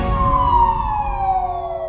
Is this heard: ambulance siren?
yes